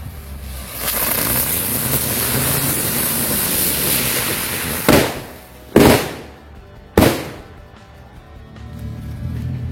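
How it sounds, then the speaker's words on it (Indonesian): A ground bloom spinning firework whirls and hisses loudly on the ground for several seconds at a New Year celebration, then three sharp cracking bangs follow in quick succession before it fades. "selanjutnya kita nyalain mercon gangsing ground bloom"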